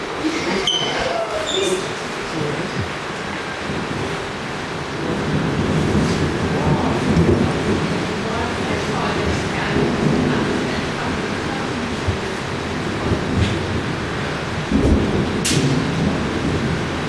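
Steady rain with a deep rumble of thunder underneath, a continuous wash of noise lasting throughout, swelling slightly midway.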